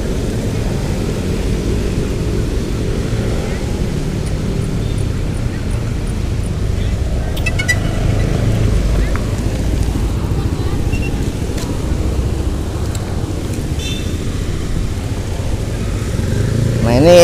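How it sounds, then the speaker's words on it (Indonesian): DJI drone switched on with its motors running, a steady broadband whir holding close and loud throughout with no pauses. "Ini drone kita nyalakan."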